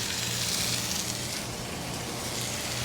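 Ribeye steaks sizzle on a Blackstone griddle with a steady, dense hiss and crackle that holds evenly throughout, close and moderately loud with no talking.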